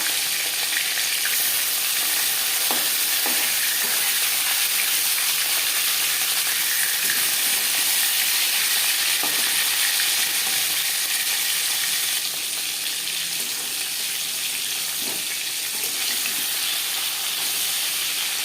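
Rohu fish sizzles steadily in hot oil in a pan, a loud, continuous frying hiss with a few soft crackles that runs unbroken throughout, with no voices.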